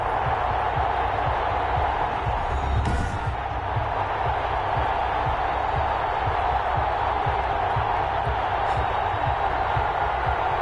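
Stadium crowd in a Detroit Lions versus London Black Knights preseason American football video game on PS4, a constant dense roar of cheering and chatter filling the whole stretch at even loudness, with a brief swell near the start.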